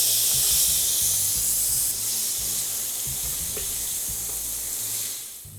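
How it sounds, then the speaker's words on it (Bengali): Potatoes and jackfruit seeds fry in hot oil, giving a steady close hiss and sizzle that eases slightly toward the end. "আলু আর কাঁঠালের বিচিগুলো আমি প্রায় পাঁচ থেকে ছয় মিনিট ভেজে নিলাম"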